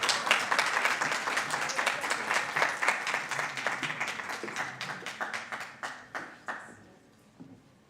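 Audience applause at an IOM Kenya International Migrants Day 2023 event greets the Chief of Mission walking on stage, moderate rhythmic clapping that thins to a few scattered claps and dies away.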